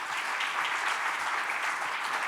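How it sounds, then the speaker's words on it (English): Conference audience applauding guests at an opening address: an even wash of many hands clapping, steady and moderately loud for the whole brief stretch, with no voices. "could I get another round of applause for these fantastic guests?"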